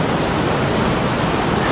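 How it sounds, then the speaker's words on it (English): Water pours and crashes steadily out of canal locks in central Manchester, a loud, continuous broadband rush with no break across the short stretch. "You can hear the water crashing out of the locks"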